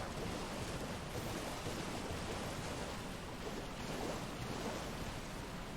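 A waterfall in the video game Elden Ring gives a constant broad rushing roar of falling water, steady and fairly loud throughout with no talking.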